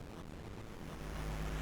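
Waterfall in the video game Mina the Hollower, a faint, steady rushing wash of falling water with a low rumble that swells slightly toward the end.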